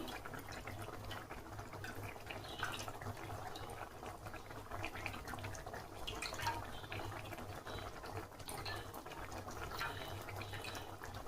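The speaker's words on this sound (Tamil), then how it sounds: "இப்போ புளி தண்ணியை ஊற்றிக்கலாம்." Tamarind water poured into a pot of bean-and-brinjal kuzhambu, a steady watery wash and bubbling that runs evenly throughout, close and moderately loud, with no talking.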